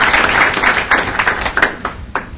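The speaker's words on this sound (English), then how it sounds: "let's give her a round of applause on her retirement" Audience applause rises at a city council meeting honoring a retirement, a moderately loud patter of scattered hand claps that thins into fewer, separate claps toward the end.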